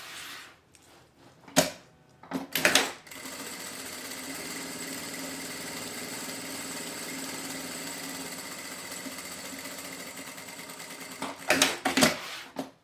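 Sewing machine stitching a seam on a fabric beach bag, a steady close-up mechanical whir running continuously for several seconds, bracketed by a few loud clunks and handling knocks at the start and end.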